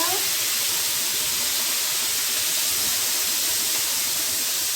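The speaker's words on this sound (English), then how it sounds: "I'm going to start cooking the green beans" Green beans seasoned with salt and pepper sizzle steadily in a hot pan, a continuous close hiss running without a break throughout.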